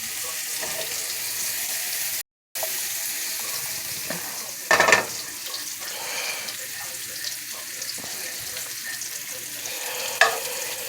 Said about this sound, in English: we'll go back to our mushrooms. As we can see, they're still browning.